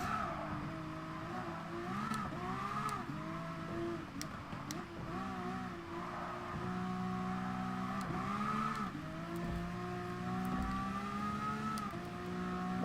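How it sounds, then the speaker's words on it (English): A race car engine in Gran Turismo Sport drones steadily and loudly throughout, its pitch rising and falling through repeated gear changes and revs, with occasional sharp clicks over the continuous roar. "At least this car sounds good if we're going to be doing 10 laps in it."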